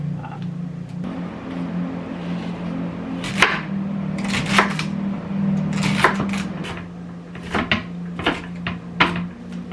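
A knife chopping celery on a cutting board, a run of sharp separate knocks that start sparse and then come quicker toward the end, over a low steady hum in a home kitchen.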